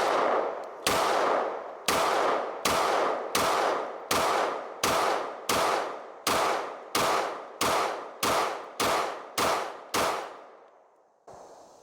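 A CZ P-10C ported pistol firing defensive ammunition at steel targets outdoors: about fourteen sharp, loud reports at a steady pace, each with a ringing metallic clang from the struck steel, and no talk.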